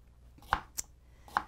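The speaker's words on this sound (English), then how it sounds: "while I am cooking and dicing" A knife slicing steak for fajitas on a cutting board, three sharp separate chops spaced about a quarter to half second apart, close and fairly quiet with no talking.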